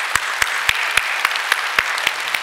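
Applause from a congregation during a Christmas Sunday worship service at a Korean church. The clapping is dense and steady, with sharp, regularly spaced accents that suggest some people are clapping in unison.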